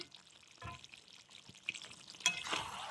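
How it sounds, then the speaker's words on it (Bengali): Chicken pieces being sautéed in a pan for chicken posto, a quiet low sizzle with occasional stirring scrapes and soft clinks, close and faint, with no talking. "দেখতেই পাচ্ছেন মাংসটাই ভালোভাবে আমি কষছি"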